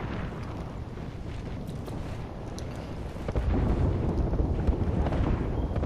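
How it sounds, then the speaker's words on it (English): Airstrike explosions in the Apex Legends video game roll out as a continuous heavy rumble of distant blasts, swelling louder partway through, with scattered sharp cracks. "Airstrike get dropped"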